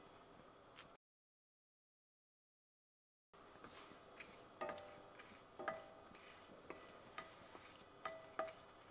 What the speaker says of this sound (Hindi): सरसों और जीरा डालने से पहले लाल मिर्च को अच्छे से फ्राई कर लेंगे